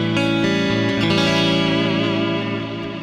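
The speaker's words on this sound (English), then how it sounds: "Scene 2 is the good old 5F8 Tweed" A clean Strat-style electric guitar runs through a 5F8 Tweed amp model with floaty, echoing effects: sustained chords ring out continuously and fade slightly at the end, with no speech.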